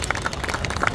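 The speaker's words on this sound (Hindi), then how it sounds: "इनके लिए एक बार ज़ोरदार तालियां।" An audience claps for a comedian and singer at a poetry and comedy event, a short dense burst of many hands applauding together.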